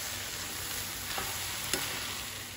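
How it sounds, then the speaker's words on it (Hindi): Soya chunks being stirred in a pan with tomato ketchup and spices: steady soft sizzle with a couple of brief scraping stirs, close and moderately quiet, no voices. "अब डालेंगे सोयाबीन और इसको चलाएंगे"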